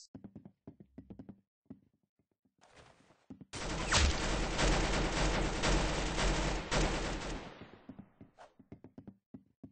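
Gunfire in the Roblox game Arsenal breaks out as a dense, loud burst of rapid shots lasting several seconds, with sparse light knocks and taps before and after.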